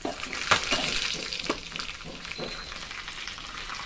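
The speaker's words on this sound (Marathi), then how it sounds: "त्यानंतर कढीपत्ता, 2 लाल मिरच्या असा तडका तयार करून घ्यायचा" Tadka of mustard seeds, cumin, chopped garlic, curry leaves and red chillies spluttering in hot oil for dal, a close, steady sizzle with sharp crackling pops scattered throughout.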